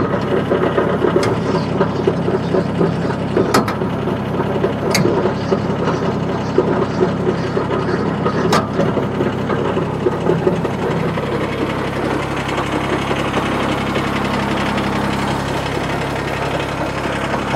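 Woodland Mills WC46 wood chipper engine running steadily close by, a continuous knocking, vibrating drone with a few sharp mechanical clicks.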